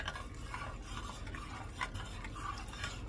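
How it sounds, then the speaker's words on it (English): Evaporated milk gets stirred into a pot of cheesy sausage rotini, with soft wet swishing and faint scrapes of a spoon against the pot, quiet and continuous with no talking. "I'm gonna stir that in"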